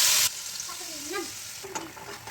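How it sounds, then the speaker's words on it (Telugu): Tomato deep-frying in oil with a little urad dal for pickle, a hissing sizzle with stirring scrapes and a brief loud burst at the start, close and without speech. "దీన్ని బాగా డీప్ ఫ్రై చేయాలి ఆయిల్ అంతా పైకి తేలాలి"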